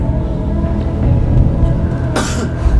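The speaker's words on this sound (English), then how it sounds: "someone would cough when he said the right one." One sharp cough near the end cuts through a low background murmur and hum.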